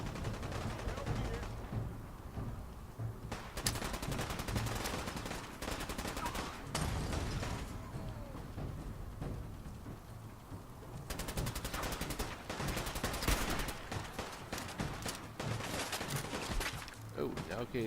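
Enemy gunfire in Fallout 4 aimed at the player: sustained volleys of rapid shots and bursts, loud and close, running almost continuously with brief gaps.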